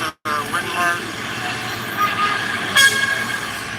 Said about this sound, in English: The background traffic noise is louder than him.